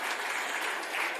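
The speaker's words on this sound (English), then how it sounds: "Round of applause." Crowd at a gala awards night claps in a brief, steady burst, a fairly soft but dense patter of many hands with no voices on top.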